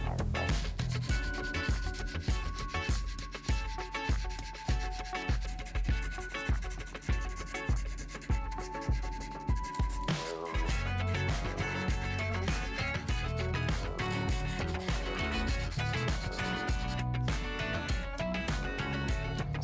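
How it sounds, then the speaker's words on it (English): Small piece of emery cloth with a drop of oil sanding file marks off a steel pocket pry bar, rapid rhythmic back-and-forth rubbing strokes, close and steady, with a continuous background tone throughout. "Next, I'm going to use a small piece of emery cloth with a drop of oil to sand away the marks left from the file."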